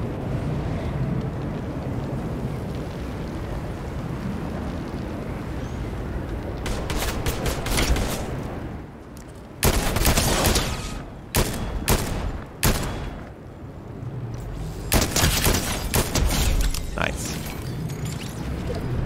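Repeated bursts of gunfire from Fortnite, loud and close, come in clusters over a rumbling background, with sharp cracks and short pauses between volleys.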